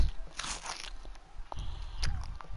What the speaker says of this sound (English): that crunching was a bit too loud